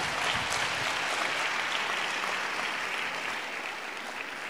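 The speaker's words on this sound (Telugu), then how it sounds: "చప్పట్లు కొట్టి ప్రభు నామాన్ని మహిమపరుస్తా" A church congregation applauding during a sermon, dense sustained clapping that fills the room and tapers slightly toward the end, with no speech over it.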